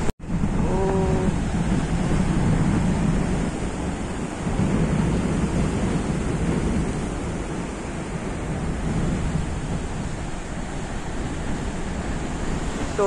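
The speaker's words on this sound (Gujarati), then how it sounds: "તો મોજાઓ એટલા બધા ઉછરે છે ને કે અત્યારે ધોવાણ થઈ ગયું છે." Rough sea waves pound Mangrol harbour during Cyclone Biparjoy, a continuous loud roar of surf with heavy wind buffeting the microphone.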